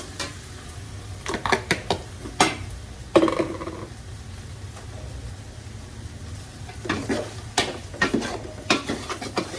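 Annatto powder mixture being stirred in a pot while cooking pork leg kare-kare, a spoon scraping and clinking against the pot in scattered bursts with a soft sizzle underneath, close and fairly quiet.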